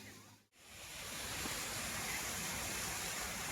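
Garden fogging sprinklers at Nan Lian Garden in Hong Kong release water mist with a steady, broad rushing hiss that swells up after a brief dip and keeps going, with no voices.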